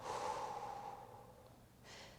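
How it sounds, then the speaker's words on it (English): Slow, deep breath during a heart-opening vinyasa yoga flow, a long soft airy exhale followed by a pause and the start of another breath, close and quiet. "Deep breath in. Deep breath out."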